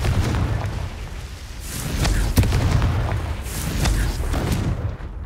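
The Confringo explosion spell goes off again and again in Hogwarts Legacy, a string of deep booms and sharp bursts with a rumbling tail that keeps up a loud, dense battle clamor throughout.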